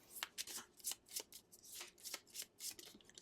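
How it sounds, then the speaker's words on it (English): Wingspan board game cards are shuffled by hand in rapid, crisp riffles, a dozen or so papery bursts close up and alone in a quiet room. "We'll shuffle these up."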